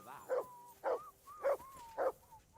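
A dog in Kingdom Come Deliverance 2 barks four times at an even rhythm, close and clear, with short quiet gaps between the barks.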